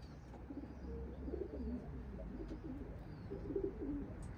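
Racing pigeons in a loft give soft, repeated coos, quiet and fairly close, against a low steady background hum.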